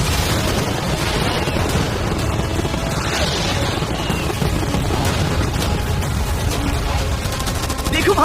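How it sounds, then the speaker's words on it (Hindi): Cannons, fireworks, arrows and catapults all fire at once in a yacht-defence battle, producing a dense, continuous roar of overlapping blasts and bangs that stays loud throughout, with shouting voices mixed in. "मैं चाहता हूँ कि तुम कैनन्स, फायरवर्क्स, एरोस, कैटapults सब कुछ एक साथ फायर करो।"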